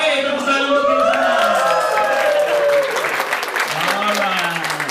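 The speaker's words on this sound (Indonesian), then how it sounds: "tepuk tangan untuk kita semua." An audience at an evening motivational talk breaks into loud, sustained applause with some cheering while a voice carries over the clapping.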